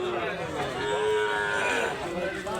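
A cow lowing at a busy cattle market, one drawn-out moo held close and loud over a murmur of people talking in the background.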